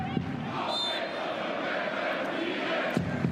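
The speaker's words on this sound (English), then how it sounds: "Let's go Union, fight and win is the chant from the home crowd." A home crowd chants at a FC Union Berlin women's Bundesliga football match against FC Köln, a steady dense roar of many voices filling the stadium with a brief whistle-like tone.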